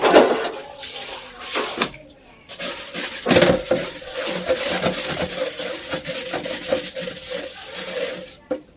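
Dirty black water draining out of an instant water geyser during home servicing, with splashing and trickling alongside clattering of metal parts and scraping handling noises, fairly loud and close, with brief gaps.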